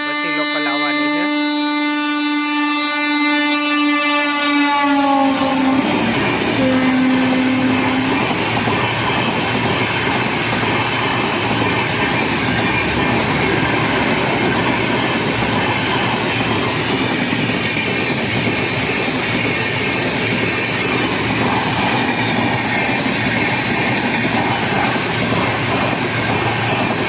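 Bandra-Veraval express train passing through Keshod station without stopping, opening with a loud horn blast that gives way to a long, steady rumble and clatter of wagons rolling close by, continuous and loud throughout.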